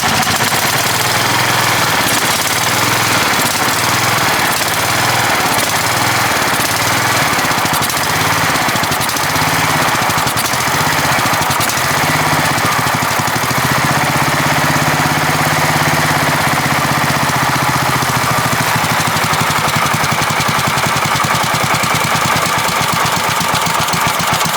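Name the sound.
Cub Cadet 1170 lawn mower engine idling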